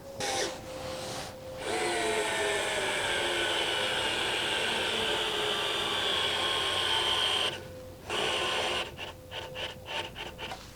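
A power drill on torque setting 3 whirs steadily as it drives screws into wood, stops, and then gives several short bursts as the trigger is pressed again and again, close up.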